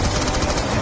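Rapid gunfire in the Black Ops 2 Zombies video game, Mob of the Dead map, a dense continuous burst of loud shots filling the whole moment.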